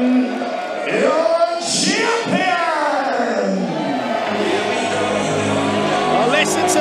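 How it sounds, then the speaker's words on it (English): A wrestling crowd roars and shouts as a champion is announced for his entrance at a live indie pro wrestling event, a dense, loud wash of voices beneath an excited ring announcer. "listen to the crowd reaction to this man"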